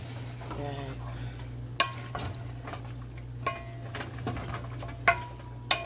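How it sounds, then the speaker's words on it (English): Curry goat with grated ginger and garlic being stirred in a pot, a soft simmering sizzle over a low steady hum, broken by several sharp spoon clinks against the pot. "And then I stir from under it."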